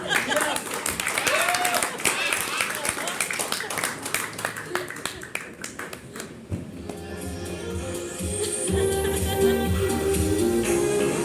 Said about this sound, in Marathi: खूपच डौलदार टाळ्या वाजवू द्या डौलदार वॉक साठी